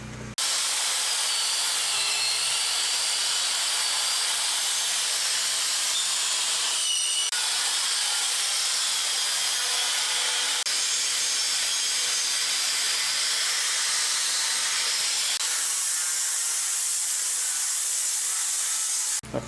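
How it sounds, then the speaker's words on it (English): A wire brush scours metal on the base of a Yates American J180 machine, a continuous loud abrasive hiss with short breaks, driven by an air compressor running off a generator. "try to wire brush this down a little bit and get it ready for painting"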